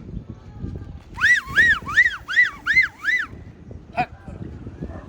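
A voice imitates an ambulance siren with six rising-and-falling wails in quick succession, loud and close, followed by a short sharp call and quiet background.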